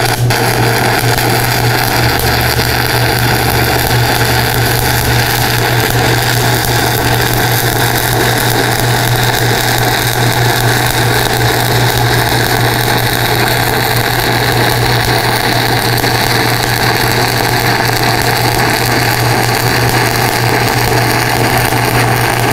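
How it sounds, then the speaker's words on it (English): Stick arc welding with a 7018 rod at about 75 amps on an Everlast 160STH welder gives a loud, steady crackling buzz with a constant low hum, running unbroken for over twenty seconds without talk. "So I just want to run this 7018 rod. I'm going to run it at about 75 amps. Let's just stick this together real quick"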